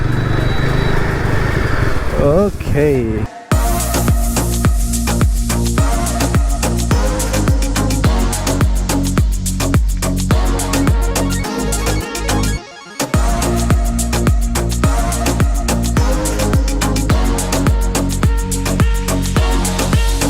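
A Yezdi Adventure motorcycle from 2022 runs under a rider, its engine a steady close drone with brief gear-change dips and a short cut-out near the middle, and a voice speaks briefly at the start.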